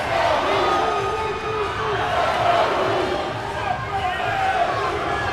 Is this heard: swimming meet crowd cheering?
yes